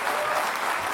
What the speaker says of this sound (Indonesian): Kita beri aplaus untuk Pak Anies.